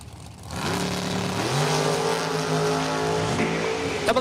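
Drag racing cars launch together down the strip at a Labor Day nationals event at Numidia Dragway, engines roaring loud and rising in pitch through the run with tire noise, no talk.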